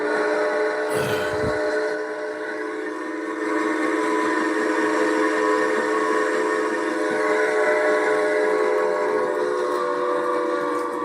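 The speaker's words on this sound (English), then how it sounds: "I'm going to just go ahead and hit the sound of the train" Train sound effect with a steam-style whistle blast near the start, then continuous rumbling rail noise and clatter of railroad cars, loud and steady throughout with no talking.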